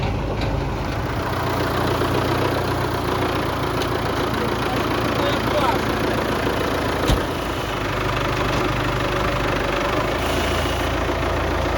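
An MTZ tractor fitted with a HARD front loader runs steadily with a constant, rough low engine drone throughout, one brief knock partway through, and a voice speaking over it.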